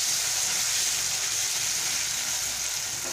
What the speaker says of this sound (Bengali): নুন হলুদ দিয়ে প্রথমে আলুটাকে আমি ভালো করে ভেজে নেব।